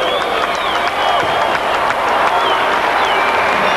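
Crowd applause in an arena at the 1991 World Gymnastics Championships men's team competition, greeting a gymnast's parallel bars routine; steady clapping and murmur fill the clip at a moderate distance with no break.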